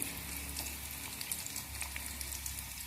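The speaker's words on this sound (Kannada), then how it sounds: "ಇದು ಒಂದು ಸ್ವಲ್ಪ ಫ್ರೈ ಆಗಲಿ ನೋಡ್ರಿ." Frying in a pan of oil while making mushroom curry, a steady, soft sizzle that carries on evenly throughout with faint stirring clicks and no talk.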